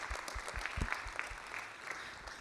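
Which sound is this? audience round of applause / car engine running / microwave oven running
audience round of applause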